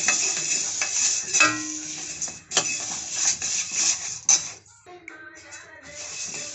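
Curry leaves roast in a pan for urad dal powder, giving a soft sizzle broken by intermittent scrapes and clatters of a utensil stirring against the pan, close and fairly quiet.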